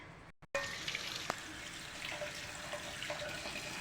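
Running tap water pours steadily as moringa greens are rinsed in a bowl, a close, soft splashing stream with a few small clinks.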